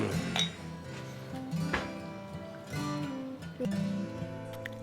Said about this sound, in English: you did just see me break a glass